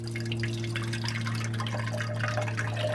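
A bar gun dispenses lemonade into a cup, producing a steady splashing pour with a constant mechanical hum underneath and no voices.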